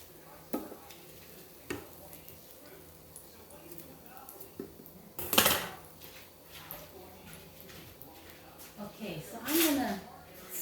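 Oil, ginger, lemongrass and jalapeno sizzle softly in a pan while being stirred, with a few sharp utensil knocks and scrapes, a louder burst near the middle and end, and a voice talking intermittently.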